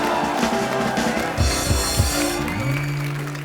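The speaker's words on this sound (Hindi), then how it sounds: "जोरदार तालियां" Studio audience applause on a TV comedy show, a dense steady clapping wash that swells briefly and carries on under a voice.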